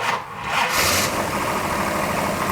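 A mystery auction racecar with an Edelbrock carburetor cranks and catches, its engine swelling from a low churn into a loud, steady, rough running roar close by, with no talking.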